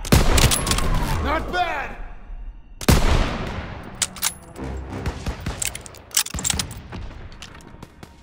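Rifle and machine-gun fire from the Call of Duty WW2 battle at Marigny, France, July 1944, with sharp close shots, a heavy blast, and scattered bursts trailing off. A voice speaks briefly over the fighting.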